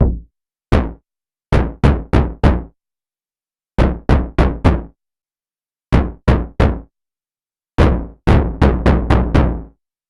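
Short, punchy synthesized percussion hits from a Subharmonicon in quick bursts, groups of two to five sharp decaying thumps separated by silences.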